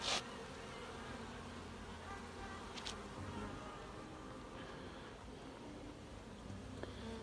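Honeybees swarm and buzz around a beehive in an apiary, a steady dense insect drone filling the whole stretch with no speech over it.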